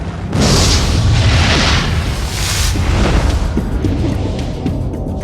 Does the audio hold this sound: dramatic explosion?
yes